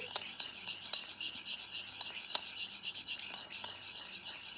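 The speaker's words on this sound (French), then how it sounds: "Allez, on remue." Homemade mayonnaise stirred in a bowl, making faint, quick, rhythmic scraping and clinking strokes that repeat steadily throughout, soft and close with no voices.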